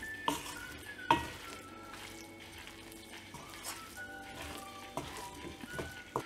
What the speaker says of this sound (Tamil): இந்த மிளகாய்த்தூள்லாம் இந்த எறாவில் நல்லா பைண்ட் ஆகிற வரைக்கும் இதை நல்லா ஃப்ரை பண்ணி விடலாம்.